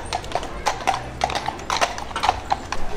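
Two horses' hooves clip-clop in a steady, uneven rhythm of sharp, close knocks on hard ground, with a low background murmur underneath.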